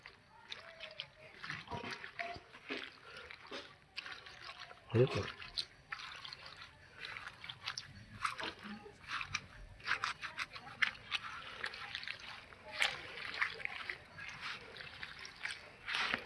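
Small puti fish being rubbed together by hand to strip their scales, giving a steady wet scraping and squelching close by with drips of water, continuing under occasional speech.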